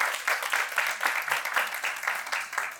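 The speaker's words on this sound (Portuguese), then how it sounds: "Uma salva de palmas." A seminar audience gives a round of applause for the mediator, an artist and educator, a steady rolling patter of many hands at moderate distance, even and sustained with no talk over it.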